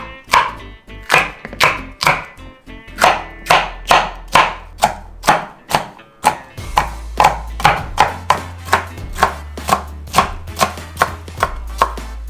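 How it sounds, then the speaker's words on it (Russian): Knife rapidly chopping mini bell peppers into rough chunks on a cutting board, a steady run of about two dozen crisp, close thuds with a low background hum, no talking. "Ну и нарезаем перцы произвольными кусками."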